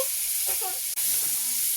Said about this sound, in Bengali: পেঁয়াজ কুচি দিলাম আদা কুচি দিয়ে দিলাম